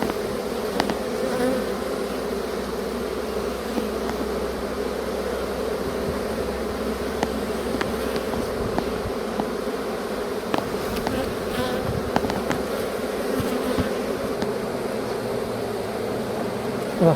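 Honeybees buzz steadily at an opened hive, one of two newly delivered populated colonies, as a dense, continuous hum holds close and even throughout, with occasional louder passes from individual bees near the ear.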